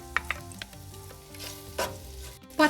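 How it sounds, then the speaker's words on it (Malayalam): Thinly sliced garlic and ginger hit hot oil in a pan, giving a soft crackling sizzle with a few sharp pops and clinks of a spoon stirring, close and fairly quiet. "എണ്ണ ചൂടായി ഇതിലേക്ക് 2 വലിയ വെളുത്തുള്ളി ചെറുതായിട്ട് കനം കുറച്ച് അരിഞ്ഞത്"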